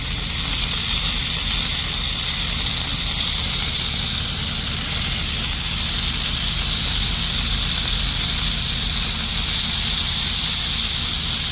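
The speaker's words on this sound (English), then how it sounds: "that's why it's going crazy, it's sizzling." Ground meat arayes sizzle hard in a hot pan after water is squeezed in, a loud, steady, dense hissing crackle running continuously with no voices.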